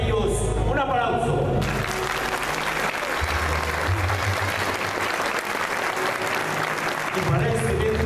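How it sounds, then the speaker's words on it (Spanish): An audience at a 30th-anniversary celebration event in Puebla breaks into sustained applause after a brief opening of voices and music. The crowd's clapping then fills the rest of the clip at a moderate, even level. "Para ellos, un aplauso."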